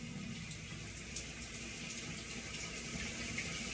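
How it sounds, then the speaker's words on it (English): Tap water runs steadily while hair is rinsed under a cold stream, a soft continuous splashing hiss close by with no talking. "use cold water when you're washing it out"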